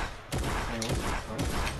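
Gunfire in a video game, a burst of rapid repeated shots starting abruptly and carrying on loud and steady through the short clip, with no talk over it.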